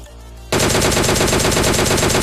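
Rapid automatic gunfire in a first-person shooter video game: after a brief quiet moment, a loud, continuous stream of machine-gun shots rattles at a fast, even rate until the end, with no talking.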